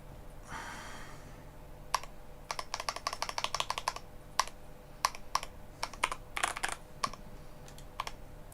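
A computer keyboard is typed on close by in irregular bursts of crisp clicks and clatters, with a soft sigh or breath near the start and otherwise quiet room tone.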